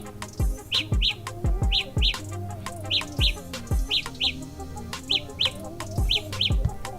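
Samsung Galaxy Buds emit their Find My Earbuds alert, a repeating pair of high, chirpy beeps at a steady rhythm, close and clear over some low background clatter.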